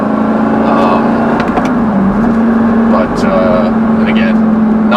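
A loud, steady engine drone from a turbo or non-turbo Lamborghini, holding a constant hum throughout, with people talking over it.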